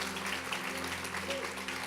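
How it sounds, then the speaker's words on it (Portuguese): A church congregation applauds its musicians and sound team, a soft, continuous patter of clapping over a low steady hum from the hall's sound system. "Vamos aplaudir forte, por favor."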